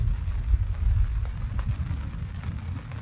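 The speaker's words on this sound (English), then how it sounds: "The storm literally went right over top of us. It's a lot of thunder." A thunderstorm with heavy rain over a campsite tent: steady rain patter and a deep, low rumble of thunder rolling under a constant wash of noise.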